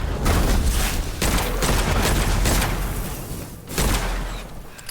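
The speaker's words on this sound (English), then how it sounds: "So here I am, shooting these musketeers" Heavy volleys of gunfire in the dark fantasy shooter Witchfire, loud, booming, overlapping blasts and rumbling impacts that roll on continuously, with no voices over them.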